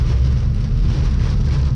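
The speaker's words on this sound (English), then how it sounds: "If it's raining like this, golly, man, I can't even see." Heavy rain pours down steadily in South Georgia, a dense, continuous wash of broadband hiss with a deep low rumble underneath, loud and unbroken, with no voices.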